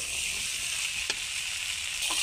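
Shukto, a Bengali vegetable stew, sizzles steadily in a frying pan as it is stirred, a constant bright hiss with a couple of faint scraping taps from the spoon.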